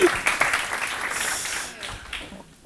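An audience at a dental implantology conference breaks into a burst of applause that holds steady and then thins out near the end, with a voice speaking over it.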